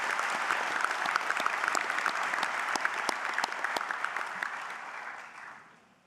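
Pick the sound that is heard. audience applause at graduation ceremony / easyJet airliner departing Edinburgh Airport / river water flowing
audience applause at graduation ceremony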